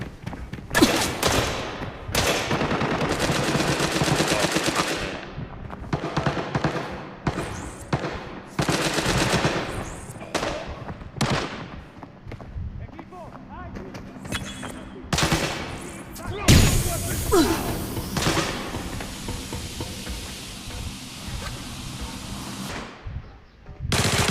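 Rapid automatic gunfire crackles in the tactical shooter Arena Breakout, long rattling bursts and single loud shots repeating close by, with brief gaps between volleys and occasional thuds.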